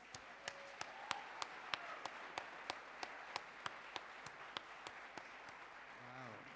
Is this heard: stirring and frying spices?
no